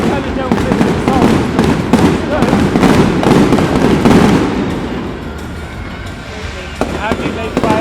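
Fireworks burst in a dense, continuous barrage of booms and crackles, loud and fairly close, easing off toward the end with a few scattered pops, while people talk in the background.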